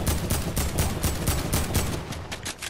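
Rapid bursts of automatic gunfire in Fortnite rattle out in a loud, repeated rhythm, the shots coming in clusters with no one talking over them.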